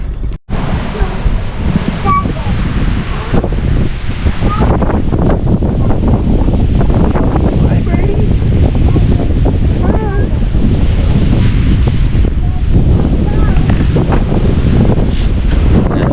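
A strong seaside wind at Coffs Harbour, New South Wales, roars loudly and continuously against the microphone over crashing surf, with faint voices buried in the gusts.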